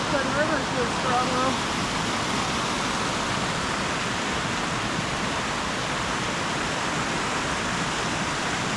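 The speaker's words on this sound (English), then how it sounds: "That river's real strong" A strong river rushes along the Ferguson Canyon trail, a loud continuous broadband roar filling the whole stretch, with a brief voice at the start.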